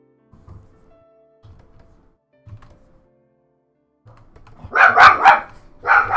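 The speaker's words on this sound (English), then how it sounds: "Dog! What the hell? Scared the crap out of me." A dog lets out a few sudden, loud barks close by after soft thumps and quiet movement, the barks coming in a quick cluster near the end.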